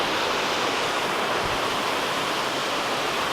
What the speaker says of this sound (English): The water for the waterfall, it's coming out of this cement tunnel.